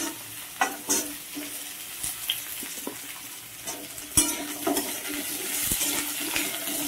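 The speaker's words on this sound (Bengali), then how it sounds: "আলু পটলটা হালকা ভেজে নেব।" Potato and pointed gourd lightly frying in a pan, with a soft sizzle broken by repeated scraping clacks of a utensil stirring the vegetables at an irregular pace, close and fairly quiet.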